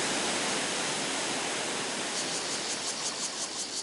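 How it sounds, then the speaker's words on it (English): A waterfall in the Dongyan Mountain forest pours a white curtain of water into a pool below, a loud, dense, unbroken roar of crashing water with no voices. "as you watch the white curtain of water crash into the pool below"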